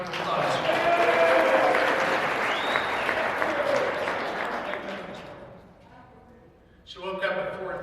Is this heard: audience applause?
yes